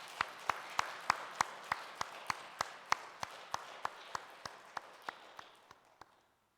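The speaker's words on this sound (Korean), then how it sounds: "우리 하나님께 영광의 박수로 하나님께 올려드리도록 하겠습니다" A church congregation claps in unison during a Sunday worship service, a steady rhythmic beat of about three claps per second that slows and fades before stopping.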